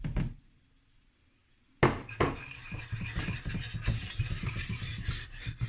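Flour being whisked into melted butter in a pan, two tablespoons of each, for a roux for bacon mac and cheese: a quiet start, then steady scraping and stirring with soft utensil taps against the pan, close and continuous, no voices.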